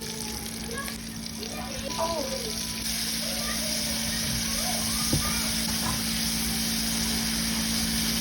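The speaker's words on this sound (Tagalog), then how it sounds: "after ma-coat lahat, ay pwede na nating i-fry sa ating mainit na mantika" Flour-coated, marinated chicken sizzles in hot oil with a steady, dense crackle and a low background hum, fairly close and continuous throughout.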